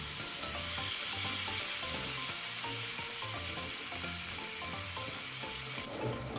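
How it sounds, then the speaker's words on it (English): Pork pieces browning in a pan for adobo give off a steady, close sizzle that carries evenly from start to finish, with soft stirring and scraping underneath. "You have to cook this until meat is brown."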